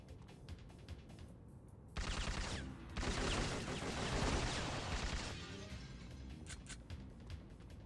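Heavy gunfire from a powerful, slow-firing gun in the PlayStation game Syphon Filter: a burst of loud, dense shots and crashing impacts that starts suddenly and sustains for several seconds over game ambience, with no talking.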